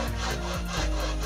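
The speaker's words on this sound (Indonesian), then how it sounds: "setelah dibikin polanya langsung digergaji" A hand saw cuts a lotus-flower lampshade pattern, giving a continuous rough back-and-forth rasp with short rhythmic strokes, loud and close.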